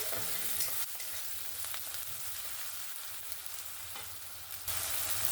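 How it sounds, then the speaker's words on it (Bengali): Onion, tomato and green chili fry in a pan for poha, a steady broadband sizzle with faint stirring, holding even and close throughout with no voices. "পেঁয়াজ টমেটো আর কাঁচা লঙ্কা সুন্দরভাবে ভেজে নিয়েছি"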